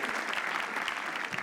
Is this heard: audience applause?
yes